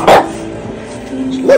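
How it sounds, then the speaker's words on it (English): A French Bulldog barks twice, close by, with a short quiet gap between the two sharp barks. "Look at the dog!"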